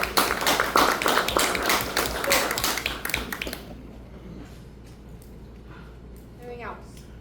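A room at a county school board meeting breaks into brief, dense clapping from the audience that lasts a few seconds and then stops abruptly, leaving quiet room tone with faint voices.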